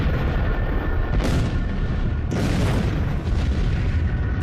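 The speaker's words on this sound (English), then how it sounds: "the fireball entered our atmosphere and violently exploded above" The Tunguska fireball exploding above Siberia's forest is rendered as a loud, deep, continuous roar, with two heavy blasts breaking through about a second apart before the rumble rolls on.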